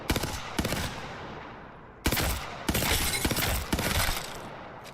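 Three-round burst gun in the video game Apex Legends, firing loud, close bursts of rapid shots in several separate groups with brief gaps between them and no talk.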